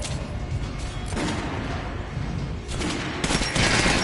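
Video game gunfire in Metro Last Light aimed at an armored enemy, with rapid loud bursts of shots in clusters and short gaps between them.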